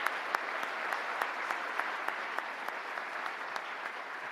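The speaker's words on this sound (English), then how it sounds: "Let's give a big round of applause to this family." A lecture-series audience applauds a family at a community event, steady moderate clapping from a crowd with a few sharper individual claps standing out, sustained evenly throughout.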